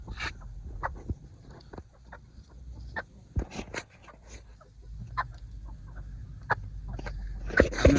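Village chickens carried by hand cluck and squawk in short, irregular bursts at fairly close range, with faint rustling and movement noise underneath.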